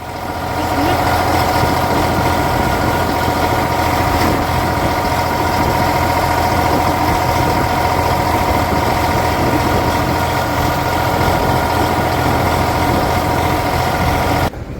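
Steady low rumble of tractor engines idling nearby in a roadside queue, a continuous droning hum with no talking, holding constant throughout.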